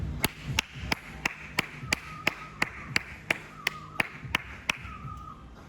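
Hands clap sharply at a steady pace, about a dozen crisp claps close by, with faint voices and a whistle-like tone in the background.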